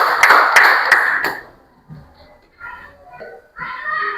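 Students in a classroom clap for a classmate with four sharp, evenly spaced claps in unison. Quieter scattered voices and small sounds follow.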